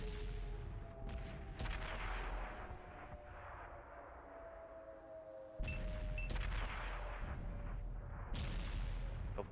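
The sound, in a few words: gunshots in a video game battle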